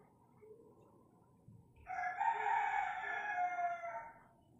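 A single long rooster crow rings out nearby on a cold, misty morning after a few quiet seconds of faint background murmur.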